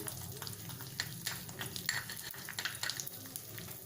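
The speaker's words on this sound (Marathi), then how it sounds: "आता त्याच्यात ही मोहरीची डाळ घालते, थोडी मिसळून घेऊ।" Mustard dal and turmeric sizzle and crackle in hot oil in a kadhai for lemon pickle, with steady frying hiss and occasional stirring scrapes, close and moderately loud, no talking.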